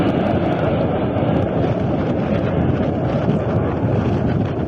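A Russian airplane going down over Crimea gives off a steady, loud, roaring engine drone mixed with wind buffeting, continuous and unbroken throughout.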